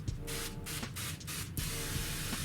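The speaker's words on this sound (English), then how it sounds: "I'm just going to kind of spray this down, get it wet." A hand sprayer mists water over frozen food in an Urban Worm Bag worm bin, a continuous close hiss of spray with a few brief pauses between pumps, heard alone.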